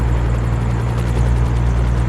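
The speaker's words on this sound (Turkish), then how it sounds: "Duyduğunuz gibi bir helikopter sesi." Helicopter sound effect in American Truck Simulator, a loud, steady rotor thrum with a continuous low drone and fast rhythmic chopping.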